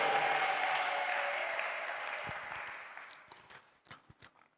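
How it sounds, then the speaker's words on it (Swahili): A church congregation gives loud sustained clapping that fades away over a few seconds, leaving scattered claps and thumps at the end; no clear ululation stands out. "Mpige Yesu makofi na vigelegele sana."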